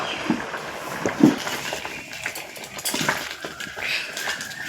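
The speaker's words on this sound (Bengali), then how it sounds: "এখন আমি ডাল ঘটা যে কাটা আছে এই ডাল ঘটা দিয়ে একটু ঘুটে দেবো" A wooden dal masher pounds and churns boiled taro leaves in a metal pot, with a run of soft wet thuds and scraping knocks close by, a couple of sharper clanks against the pot, and no talking.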